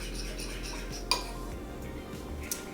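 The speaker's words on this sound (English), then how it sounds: "Give it a stir." A utensil stirs mustard sauce in a dish, with soft scraping and swishing throughout, a sharp clink against the container near the middle and a lighter tap later, over a steady low hum.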